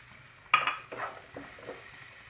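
Eggplant pieces frying with chopped onion and green chilli: after a quiet start, a sudden burst of sizzle and scraping marks the stirring, followed by a couple of softer stirring strokes and a low continuous sizzle, close by with no talking.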